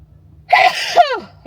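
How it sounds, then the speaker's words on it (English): A single sharp human sneeze, close and loud, with a quick intake of breath leading into the burst and a short follow-up sound at the end. "And I'm going to sneeze."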